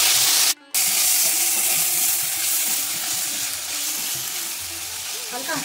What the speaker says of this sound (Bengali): এই সবকটা উপকরণকে ভালোভাবে নিজে থেকে একটু ভেজে নেব।